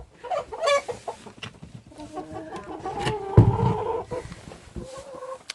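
Farm chickens cluck busily while being fed, with overlapping short clucks and squawks from several birds close by. A sharp thump sounds midway, and there is no talking.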